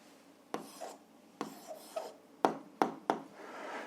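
Pen or pencil writing an algebra answer on paper, close scratchy strokes in short bursts, a few slower scrapes followed by three quicker sharp marks, with no one speaking.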